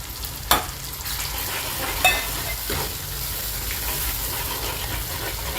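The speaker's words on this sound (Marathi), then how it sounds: "त्यामध्ये मी आता लाल तिखट टाकत आहे आणि हा मसाला टाकत आहे घरचा." Red chilli powder and homemade masala fry in oil for misal, a steady close sizzle broken by two sharp spoon taps on the pan and soft stirring.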